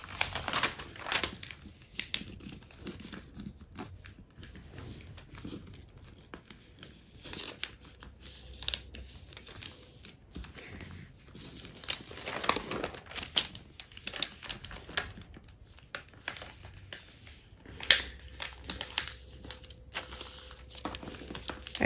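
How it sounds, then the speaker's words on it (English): Wrapping paper being folded around a wine bottle: close, irregular crinkles, rustles and sharp paper snaps in uneven bursts, with no talking. "But keep folding until you meet into the center"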